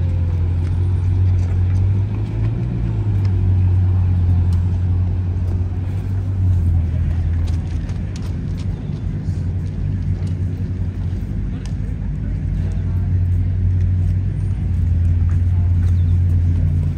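A Lamborghini Centenario's naturally aspirated 760-horsepower V12 rumbles with a deep, steady low drone, loud and close, sustained over several seconds with slight pitch shifts as it moves slowly.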